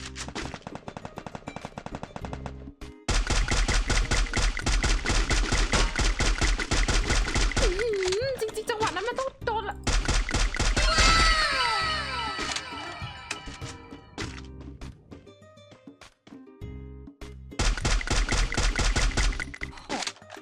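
Bursts of rapid M4A1 rifle fire in the mobile shooter Free Fire, loud and close, coming in long rattling runs with short pauses between them. Game sounds and a voice are mixed in.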